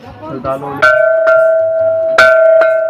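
A heavy iron temple bell at Jageshwar Mahamrityunjaya temple is struck twice, each strike ringing out in a long, bright, sustained tone. A voice is heard briefly just before the first strike.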